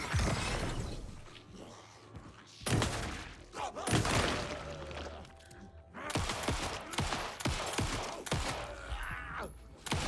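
Gunshots in the horror video game Alan Wake II come as a few sharp, loud bursts separated by quieter stretches of game sound, close and punchy, with no talk over them.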